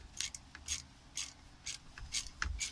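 An 8mm socket ratchet loosens a bolt during an oil change on an 06 Sea-Doo RXT: quiet, close clicking in short irregular bursts, faint and alone.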